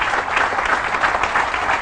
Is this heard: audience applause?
yes